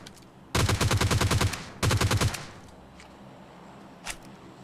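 Video game gunfire plays in two rapid automatic bursts close together, loud and sharp, followed by a faint distant shot and then quiet.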